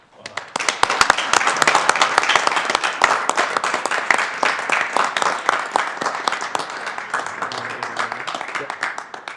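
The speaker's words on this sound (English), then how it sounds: "applaud her for her accomplishments" Applause from the audience at a city council meeting recognizing a student, a room of people clapping in sharp, dense bursts that start abruptly and slowly thin out toward the end.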